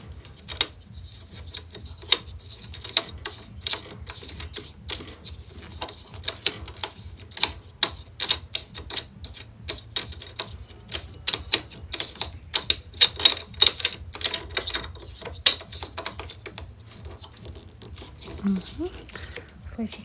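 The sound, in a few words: screwing a bolt while assembling a Bosch ARM 37 lawnmower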